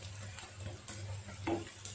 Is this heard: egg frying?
yes